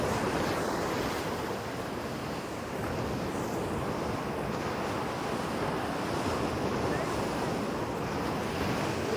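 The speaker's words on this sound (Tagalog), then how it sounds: "Ganda ng dagat." Sea waves wash continuously onto a beach, a steady broad surf roar mixed with gusting wind buffeting the microphone, with no voices heard.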